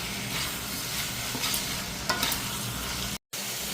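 Potatoes and pointed gourd fry in hot oil in a pan, giving a steady, close sizzle throughout. Scraping stirs come now and then, and the sound cuts out briefly near the end. No one talks.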